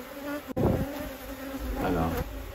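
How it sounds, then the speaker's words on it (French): Bees buzz close by in a continuous, moderately quiet drone that swells twice, with a sharp click near the start. "regardez, écoutez les abeilles, leur son."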